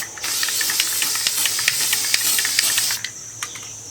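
Fabric spray paint hisses from a can in light, even coats over a pillow cover, a close, continuous airy spray broken by short bursts and small clicks, ending with a brief pause and a final puff.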